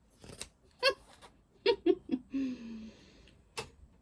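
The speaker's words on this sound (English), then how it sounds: "Oh, it's those crappy scissors again." Several short crisp snips of poor-quality scissors cutting fabric in quick bursts, followed by a longer scraping cut, close by and with no talking.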